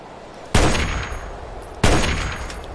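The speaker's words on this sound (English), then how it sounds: "how did he not hear all those gunshots?" Gunfire in the video game Fallout 3: two loud, sharp shots about a second apart, each followed by a short rumbling decay.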